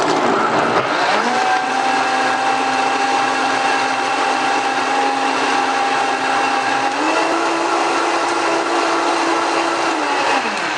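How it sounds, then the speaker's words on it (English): A Vitamix blender runs at full power for about ten seconds, a loud, steady, close motor whine that steps up in pitch partway through, with no talking over it. "I'm going to blend."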